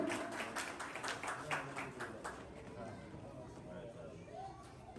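At a prize distribution ceremony, the audience bursts into clapping for a second-grade student, the applause strong at first, then fading as a voice speaks over the crowd.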